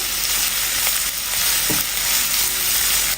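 Onions and sweet corn fry in a pan with a steady, loud sizzle that carries on throughout, broken by faint stirring scrapes. No voices.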